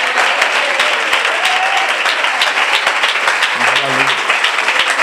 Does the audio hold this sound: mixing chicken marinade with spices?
no